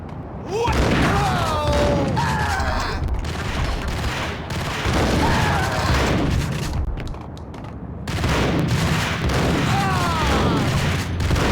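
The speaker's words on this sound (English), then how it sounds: "That's a lot of range for the shotgun to have." Shotgun blasts in the Max Payne video game, several loud booming shots spaced a few seconds apart amid game action and effects, with no talking heard over them.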